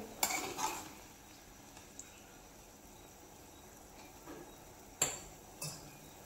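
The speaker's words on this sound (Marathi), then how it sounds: "आता हे सगळं मिक्स करून घेऊया" A mixed sprouts curry (mod aamti) simmers at a boil in a pot as it is stirred, with a few clinks of a utensil against the pot standing out over a faint bubbling background.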